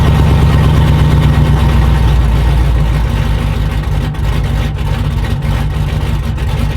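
A loud turbocharged LS V8 in a shop truck idles steadily with a deep, rumbling exhaust, holding a constant throaty drone from start to finish with no talking.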